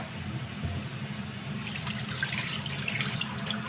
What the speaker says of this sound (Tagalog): Ayan, hinuhugasan muna natin to ng mabuti.